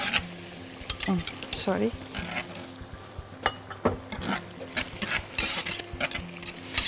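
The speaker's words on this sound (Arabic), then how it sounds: "واحنا بنحط الكريمه بنقعد نحرك" Cream being stirred in a pan on the stove for a lasagna sauce, with soft sizzling and intermittent spoon scrapes and clinks against the pan, close by, and a brief spoken word.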